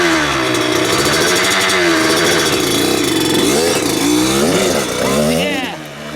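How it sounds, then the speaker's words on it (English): A two-stroke motocross bike engine revs loud and close as the clutch is let out, its pitch climbing, dipping and wavering unevenly before easing off at the end. "If you feel like the engine's going to die, give it a little bit more gas as you let out the clutch."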